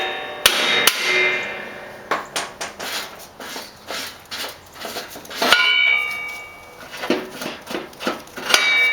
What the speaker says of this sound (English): And hit it with a hammer